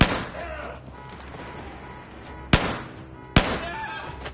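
Gunfire in the military shooter Battlefield 4 comes as a few loud, sharp shots, with two hard cracks standing out over a rattling background of combat noise and voices.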